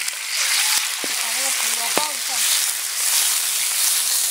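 Oil hisses and sizzles steadily in a wok, ready for frying pig kidneys, while a voice speaks briefly over the continuous frying noise.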